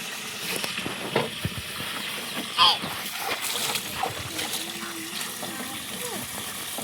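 Water splashes and trickles while a dirty gas stove is washed in a kitchen, with a brief louder splash amid running water and someone talking.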